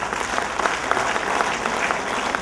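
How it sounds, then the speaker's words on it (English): Audience applause at a kindergarten annual function, a steady dense patter of many hands clapping together, moderately loud and even throughout with no voices over it. "give a very, very round of applause for each one of you."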